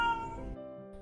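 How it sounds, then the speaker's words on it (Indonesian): A cat meows loudly and close by, one drawn-out, tonal call that tapers off, with a brief second sound at the end, heard in a kitchen while linobok batter is wrapped in banana leaves. "Inilah itu kucing sundal tadi itu yang bising betul tuh."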